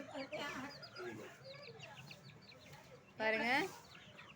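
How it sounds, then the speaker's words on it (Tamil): Chickens at a mother's house cluck in short bursts close by, with one louder, harsh squawk-like call near the end, and a person speaks briefly over them. "எங்கள் அம்மா வீட்டில் உள்ள கோழிங்க"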